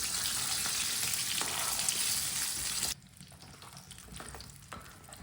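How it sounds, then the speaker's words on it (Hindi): Chicken pakora frying in hot oil, a loud continuous sizzle for about three seconds that then drops abruptly to a quieter bubbling crackle with occasional stirring clatter. "6-7 मिनट के लिए चिकन को फ्राई करना है"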